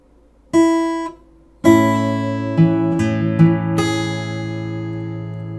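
Three fingerpicked acoustic guitar notes ring out one after another, each sustaining with bright overtones, followed by a few softer added notes blending into a sustained chord.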